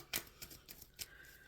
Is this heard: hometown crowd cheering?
no